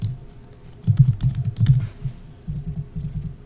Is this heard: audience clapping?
no